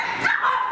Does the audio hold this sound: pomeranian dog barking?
yes